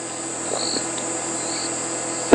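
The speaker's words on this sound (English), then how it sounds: "And there are some cicadas calling." Cicadas call on a cold morning at Djuma Game Reserve, a steady, faint, high-pitched drone that runs unbroken throughout, ending with a brief thump.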